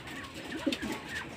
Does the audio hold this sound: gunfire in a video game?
no